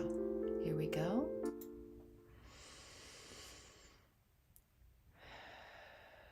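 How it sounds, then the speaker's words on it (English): Two relaxed breaths, a long airy inhale followed by a long exhale, each a soft breathy hiss with a pause between, preceded by a brief bit of voice and a tone at the start. "take a nice relaxed inhale and exhale"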